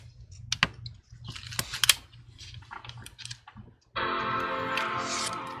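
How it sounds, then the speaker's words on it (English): A run of light taps and clicks gives way to the sustained tonal chord of a MacBook Pro startup chime, which rings out clearly and fades slowly. "you can hear that little Apple sound"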